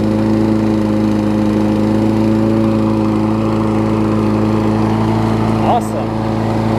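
Toro self-propelled lawn mower with a Kohler engine running steadily at close range, a continuous loud drone with a strong hum throughout, briefly dipping near the end.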